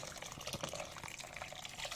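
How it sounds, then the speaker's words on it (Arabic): Hot water pours steadily over crushed fava beans, a continuous splashing, gushing stream close by with no talking. "هشقشقها بشويه ميه سخنه زي ما احنا شايفين كده"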